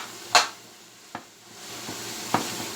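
Chicken and vegetables stir-fry in a pan under a steady soft sizzle, broken by three or four sharp scrapes and taps of a utensil against the metal.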